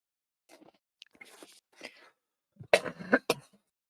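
A person coughing several times near the microphone: scattered faint rough bursts, then a louder cluster of harsh hacking coughs toward the end.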